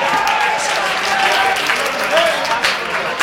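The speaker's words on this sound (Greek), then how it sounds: "Χειροκρότημα στον Αλέξανδρο, παρακαλώ." A studio audience at a televised X Factor singing show gives sustained applause for a contestant, a dense, loud wash of clapping with crowd noise and a voice coming through.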